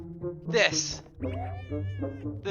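A cat meows in the video game Impostor Factory, giving several distinct cries in a row, with talk over them.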